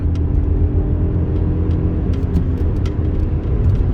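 A Ford Focus 1.5 Ecoboost sedan pushes past 100 km/h, its engine and road noise forming a steady loud rumbling drone inside the cabin.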